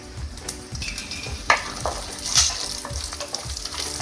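Two red chillies sizzle and fry in hot oil for sabudana khichdi, a steady crackling hiss with occasional stirring clicks and a brief utensil knock near the middle, with no talking.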